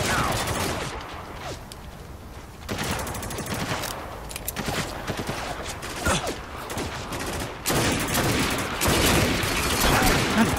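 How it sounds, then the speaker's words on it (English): Sustained automatic gunfire from the war shooter Spec Ops: The Line, heavy volleys and bursts rolling on for about ten seconds with short lulls between, loud and close, with some shouting mixed in. "I'm just wasting bullets here"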